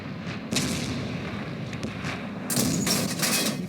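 Self-propelled artillery firing in the World of Tanks video game, with sharp blasts near 0.5 and 2.5 seconds rising out of a steady rumbling game background.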